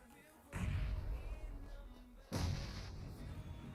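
Two heavy grenade blasts boom out in a PUBG Mobile esports match, each a sudden loud burst trailing into rumble, spaced a couple of seconds apart.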